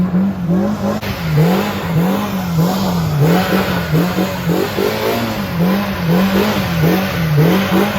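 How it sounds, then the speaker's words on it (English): A Polaris RZR Pro R off-road vehicle spinning an all-wheel-drive donut, its engine revving hard and rising and falling in a steady cycle with each loop, loud and close, with tire and dirt noise throughout. "All-wheel drive donut."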